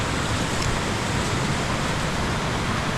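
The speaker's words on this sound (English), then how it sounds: "a lot of waterfalls here" Steady, dense rushing roar of waterfalls in a mountain rainforest on St. Vincent, a constant broadband wash of falling water with no breaks, moderately loud and close, with no voices over it.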